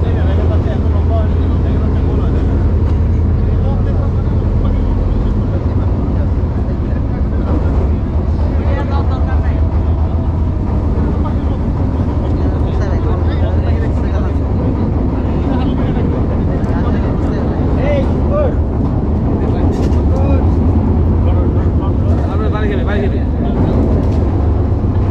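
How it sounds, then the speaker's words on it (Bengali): A trawler's engine runs steadily as the boat travels through dense Sundarbans forest waterways, a loud continuous drone mixed with wind buffeting, with voices talking over it. "আমাদের ট্রলারটি ঘুরাতে সক্ষম হয়েছে এবং আমরা এখন ছুটে যাচ্ছি আমাদের শিপের কাছে"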